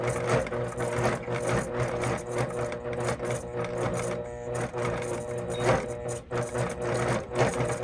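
Longarm quilting machine stitching down couched thread, a fast mechanical needle chatter running steadily with brief pauses and restarts, close and fairly loud, with no voices.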